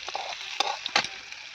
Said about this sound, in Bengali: এই যে পেঁয়াজ কলিটা ভাজছি